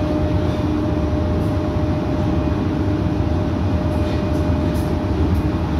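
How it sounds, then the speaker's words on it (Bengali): An AC EMU local train running from Sealdah to Kalyani makes a loud, continuous rumble, with a steady drone and faint higher tones throughout and no talk. "আমাদের ট্রেন ক্রস করছে কাঁচরাপাড়া ওয়ার্কশপ।"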